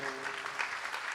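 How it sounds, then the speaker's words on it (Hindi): Crowd clapping at a public address in Maharashtra, a dense wash of many hands with some voices mixed in, held at a steady level for a moment. "एक बार ताली बजा लो"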